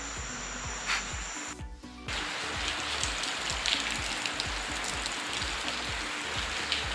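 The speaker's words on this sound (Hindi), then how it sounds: "आज बारिश हो रही है" Steady rain falling outdoors, an even hiss of drops hitting surfaces that stays constant throughout, with a brief dip and faint thuds early on.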